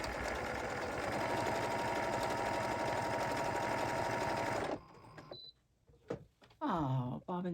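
A sewing machine stitches a purse in a fast, steady mechanical whir for nearly five seconds, then stops, followed by a few small clicks and a brief voice.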